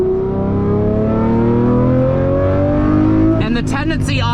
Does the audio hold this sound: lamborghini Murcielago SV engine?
yes